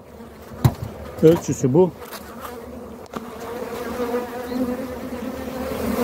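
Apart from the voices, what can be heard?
bees buzzing around a beehive being fed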